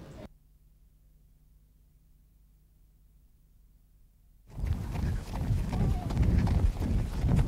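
A horse trots during a riding lesson, hooves beating a rhythmic clip-clop after a quiet hum-filled start, with an instructor talking over the later hoofbeats.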